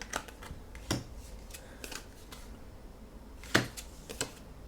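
Cards for the Lord of the Rings card game are discarded one after another onto a table, producing soft, irregular flicks and snaps, with a sharper slap partway through, all close and fairly quiet, with no talking.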